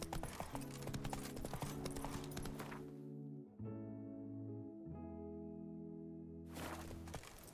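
Horse hooves clip-clop steadily in a video game, a near, rhythmic trot over a bed of layered game music that briefly thins midway.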